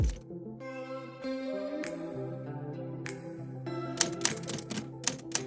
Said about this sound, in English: I will type it here.